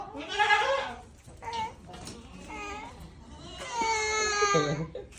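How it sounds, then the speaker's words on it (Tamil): A young goat kid bleats repeatedly in wavering, cry-like calls close to the microphone, alternating with people talking nearby. "அது ஆட்டுக்குட்டி சொல்லு"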